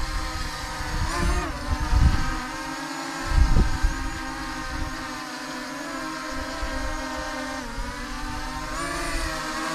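Holy Stone HS360S drone hovering and coming down to land on a pad in gusty wind: a continuous close motor whine with shifting pitch and a few louder surges as wind pushes it around, no talking.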